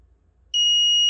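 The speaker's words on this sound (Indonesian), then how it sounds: "ini cuma menyalakan dan mematikan buzzer saja" A small electronic buzzer on a LoRa wireless receiver module suddenly switches on after near-silence, a loud, steady high-pitched tone that holds without a break, with no talking.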